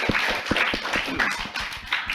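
Clapping from a school audience at an event for MIN 1 Toli-Toli, a steady patter of hands close by with some voices mixed in.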